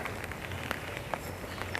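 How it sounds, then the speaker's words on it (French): Rain falls steadily in a flower park, a faint, even patter with scattered sharper drops and no voices. "Sous la pluie."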